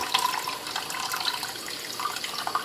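Tap water runs into a container set up for hatching brine shrimp, making a continuous close splashing rush with light gurgles throughout.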